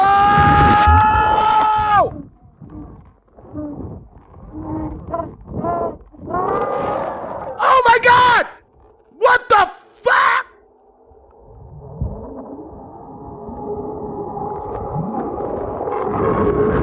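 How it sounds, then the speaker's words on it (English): Strange screaming and roaring sounds captured underwater in the Devil's Cauldron, with shrill, wavering cries in short bursts, then a lower sustained groaning drone toward the end. "he has no idea what could have caused this strange underwater screaming"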